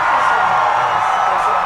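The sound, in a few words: crowd reaction at election night broadcast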